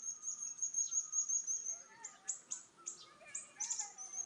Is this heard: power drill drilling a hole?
no